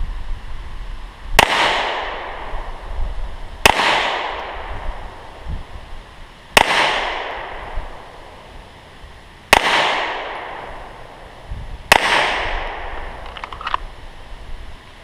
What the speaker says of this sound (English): slow shots, working the trigger reset, and really making sure I've got a good sight picture and my sights are aligned